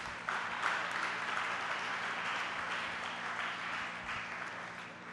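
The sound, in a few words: audience applauding in honour of electricity linemen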